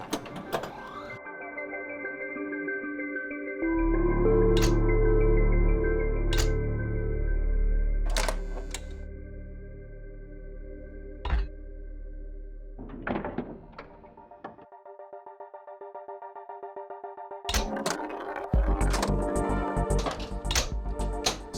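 Williams Space Shuttle pinball machine in tournament play: solenoid thunks, a ball rolling and knocking against the flippers for a live catch, then a sharp cluster of mechanical clacks, with electronic tones and game music sounding throughout.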